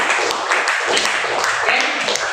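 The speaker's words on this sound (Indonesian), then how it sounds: "berikan tepuk tangan untuk kelompok 2" Classroom applause for a student group after their presentation, a steady dense patter of many hands clapping throughout, fairly close and even in level.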